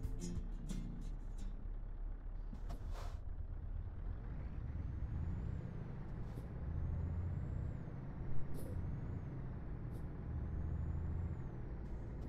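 Truck and trailer in Euro Truck Simulator: a steady low engine drone runs throughout, broken by several short, sharp air-brake hisses and a few faint electronic beeps.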